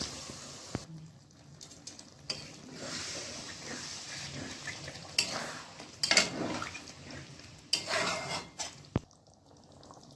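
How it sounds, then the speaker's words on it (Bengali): A cup of water poured into chicken kosha frying in a pan sets off splashing, hissing sizzle and scattered clatter of utensils, moderately loud and close. "এবারে আমি এর মধ্যে 1 কাপ জল দিয়ে দেবো।"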